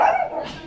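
A single short dog bark or yelp sounds close and fairly loud, followed by a brief fading whimpering tail, with no talk alongside.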